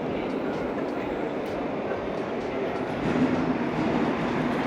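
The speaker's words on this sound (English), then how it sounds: "Hey, our train's coming." A packed passenger train pulls into a station in Spain, a steady loud rumble of wheels and rail noise that swells slightly near the end, with people talking faintly underneath.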